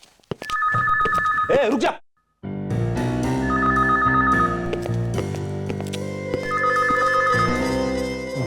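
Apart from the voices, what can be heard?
phone ringing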